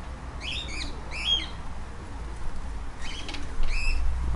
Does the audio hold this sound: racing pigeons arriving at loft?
yes